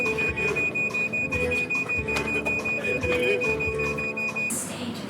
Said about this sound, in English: Ignore the beeping.